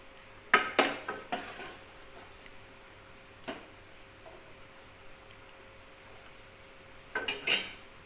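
Chana dal tipped into a pot of Kerala banana payasam made with coconut milk, giving a few sharp metallic clatters and scrapes of a utensil against the pot, then a quiet stretch and another cluster of knocks near the end.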